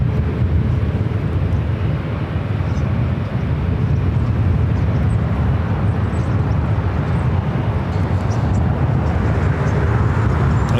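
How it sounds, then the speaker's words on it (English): A United Boeing 787 Dreamliner arriving at LAX on flight 802 from Hong Kong, its engines giving a steady low rumbling roar that holds throughout, moderately loud, with no talk. "Right up next is that United Dreamliner coming in from Hong Kong"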